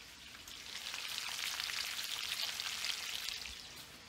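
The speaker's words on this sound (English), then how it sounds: "Put some bacon, saute it in my cabbage" Bacon sautéing with cabbage in a pan gives a steady, even frying hiss that swells after a brief start and holds throughout, close and moderately loud with no voices.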